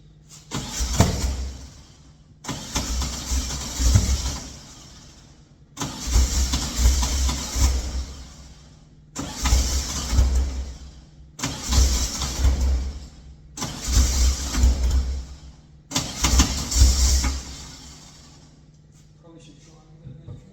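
A car engine with its timing 180 degrees out cranks in seven separate bursts of about two seconds each, each a loud, churning starter-motor chug that fails to catch, with short quiet gaps between attempts.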